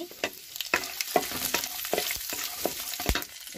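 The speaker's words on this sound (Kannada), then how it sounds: "ಈಗ ನಾನು ಕರಿಬೇವು, ಒಂದು ಮೆಣಸಿನ್ಕಾಯಿ ಮತ್ತು ಉದ್ದಿನಬೇಳೆ ಇದಿಷ್ಟನ್ನು ಹಾಕ್ತಾ ಇದ್ದೀನಿ." Curry leaves, a green chilli and urad dal, added to hot oil that already holds peanuts, crackle and sizzle up close, with repeated sharp pops and stirring scrapes under a continuous frying hiss.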